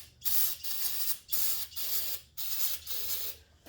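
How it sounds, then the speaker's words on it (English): Short hissing bursts of starting fluid spray into the engine holes of a Suzuki GSX-R750 K7 motorcycle. There are about six or seven quick, evenly spaced sprays, close and clear, with no talking. "Spray some starting fluid down these holes"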